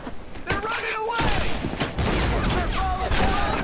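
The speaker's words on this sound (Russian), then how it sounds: "Наконец-то хоть какая-то стрельба." Loud rapid gunfire bursts in Medal of Honor Pacific Assault, rattling in quick volleys alongside excited speech throughout.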